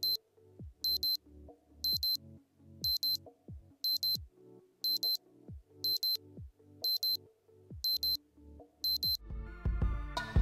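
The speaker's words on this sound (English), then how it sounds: "So I set my alarm to go off at 8 a.m." An electronic alarm clock beeps in regular bursts about once a second, repeating steadily, with a rustle of movement rising at the end.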